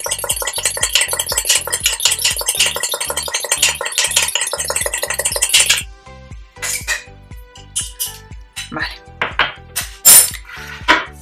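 Egg wash is whisked in a bowl for a roscón de reyes, a fast, regular tapping of utensil against the bowl for several seconds, then scattered clinks and taps with a brief voice.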